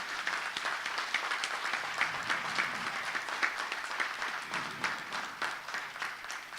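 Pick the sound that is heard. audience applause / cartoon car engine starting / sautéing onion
audience applause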